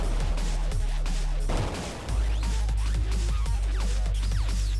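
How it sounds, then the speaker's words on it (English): Enemy gunfire in the indie shooter Gunplay beta, a steady rattle of shots over a constant low game drone, briefly dipping midway before resuming with scattered impacts. "now that guy's shooting at us"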